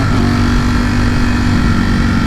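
A Ducati Streetfighter V4S hyper-naked motorcycle engine, 208 horsepower, runs loud and close, a steady gritty roar with revving texture throughout and no talking.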